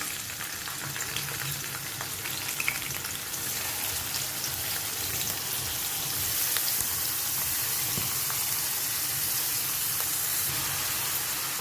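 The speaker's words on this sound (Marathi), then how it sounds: "हे बघा कढईमध्ये मी तेल तापत ठेवलं आहे" Chopped onions and green chillies frying in hot oil in a kadhai for methi bhaji, a dense continuous sizzle like rain, close and steady, swelling slightly louder partway through, with faint stirring and no talking.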